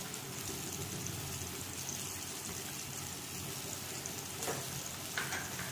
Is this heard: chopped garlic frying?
yes